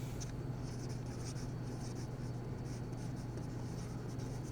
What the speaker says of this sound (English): I taped a sheet of paper onto the glass surface just to give it a little more friction so that it doesn't slide all over the place while I'm writing